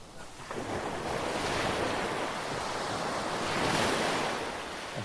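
Steady roar of surf breaking along Maspalomas beach, loud and continuous with a gentle swell in intensity, mixed with wind buffeting the microphone and no voices.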